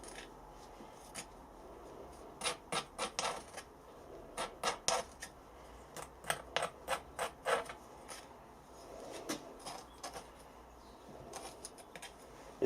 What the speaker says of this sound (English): We'll carefully dig out the sand. Down the spokes of the wheel.